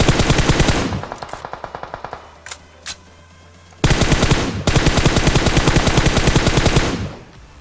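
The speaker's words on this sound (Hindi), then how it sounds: "गोलियों की आवाज अभी भी आ रही है" Loud bursts of rapid automatic gunfire in the battle royale game PUBG on the Miramar desert map, fired in long dense volleys with a brief pause and a few single shots between them, close and echoing.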